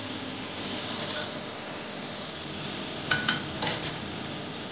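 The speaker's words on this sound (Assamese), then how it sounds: "আদা নহৰু পেষ্ট এইখিনি ভালদৰে অলপ ভাজি ল'ব লাগে" Onion frying with ginger garlic paste in a pan for a fish recipe gives a steady, soft sizzle, with a few light clinks of a stirring spoon near the end.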